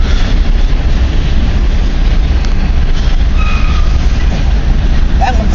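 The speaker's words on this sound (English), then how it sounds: "This is an extremely long train." A long CN freight train rumbles past continuously and loudly, its cars producing a steady low roar with a brief wheel squeal near the end.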